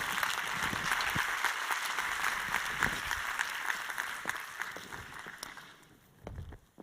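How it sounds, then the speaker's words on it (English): Applause from a conference audience for a woman panelist, a quality management program manager, broad crowd clapping that holds steady and then gradually fades, fairly distant and moderate, ending with a brief thump of movement. "A round of applause for the lady"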